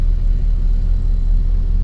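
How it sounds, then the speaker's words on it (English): Diesel engines of a 2003 Carver 350 Mariner Special Edition boat rumble steadily at idle, a deep, even, close throb with no talking. "once again see these engines fire up"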